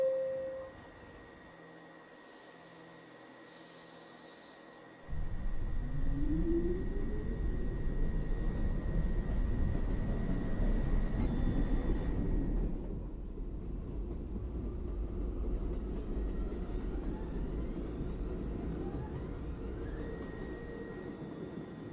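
An R62 NYC Subway 1 local train pulls away and rides between stations, quiet at first, then a loud sustained rumble and wheel roar with a rising motor whine, easing slightly later on.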